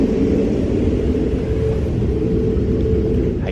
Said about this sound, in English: use caution in the vestibules while the train is in motion